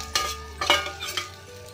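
Mashed potato is stirred and fried in a pan with spices while making masala dosa filling, giving a few close scraping strokes of a spoon against the pan over a soft, steady sizzle.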